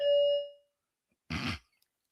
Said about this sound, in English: Musical chimes.